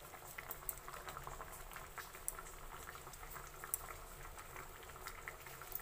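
Prawn and potato curry simmering in a pot, with soft continuous bubbling and small popping blips, quiet and close, with no talking.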